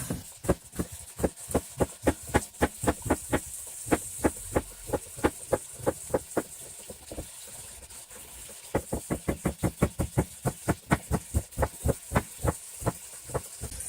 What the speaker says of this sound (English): the more onion you have to slice, the more satisfying the slicing is